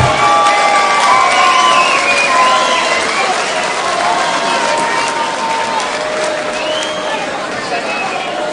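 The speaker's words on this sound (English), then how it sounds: "give both of these lads a round of applause" A crowd at a professional boxing event cheers, shouts and applauds after a bout, a loud, dense roar of voices and clapping that holds steady throughout with whistles and high shouts rising above it.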